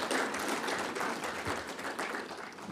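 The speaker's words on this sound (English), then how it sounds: "So why don't we once again give my guest a big round of applause." Conference audience applause, fairly faint and distant, a dense patter of claps holding steady for a few seconds.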